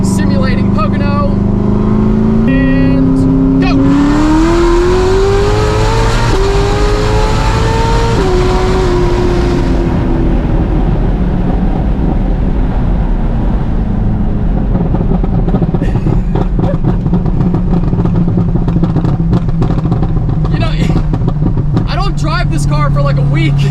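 A sports car in track mode with manual shifting accelerates hard through second and third gear, engine pitch climbing steeply then dropping at each shift, loud and close, with a person talking over it.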